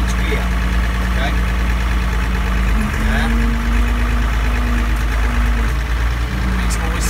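A Case or David Brown tractor engine with hydra shift runs loud and close, a steady chugging drone with a pitch rise and settle midway, while someone talks over it.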